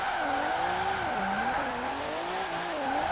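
Retro Alfa Romeo engine drifting in Forza Horizon 4, a steady, aggressive growl whose pitch rises and falls with throttle while tires squeal, heard fairly quietly and continuously.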